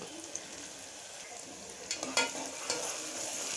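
A spoon stirs turmeric into onions frying in oil for mutton mango curry, with a soft continuous sizzle and a few brief scraping clanks against the pan, quiet overall with no talk.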